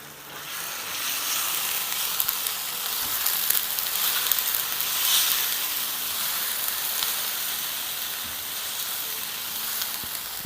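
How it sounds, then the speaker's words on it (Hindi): Ginger garlic paste fries with onions in a hot pan, giving a steady, dense hiss and sizzle that holds close and even throughout with faint crackles on top, and no voices. "जिंजर गार्लिक और प्याज़ों को भी 2 मिनट फ्राई कर लेंगे अच्छे से।"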